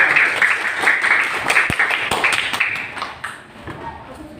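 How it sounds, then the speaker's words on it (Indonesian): Children clap together in a classroom during a lesson, a dense patter of hand claps mixed with lively voices, with a few sharper individual slaps standing out before the sound tapers off. "Tepuk tangan untuk kita semua."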